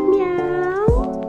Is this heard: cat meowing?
yes